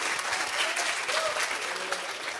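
Dense, steady applause from a business seminar audience, many hands clapping at once, sustained and fairly loud throughout.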